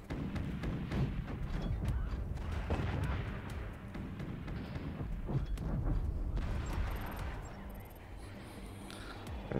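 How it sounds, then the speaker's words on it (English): Weapons fire and explosions from the video game Forts, a steady barrage of booming launches and blasts with rumbling low end throughout, one set of swarm missiles among the dense continuous battle noise. "Another set of swarm missiles."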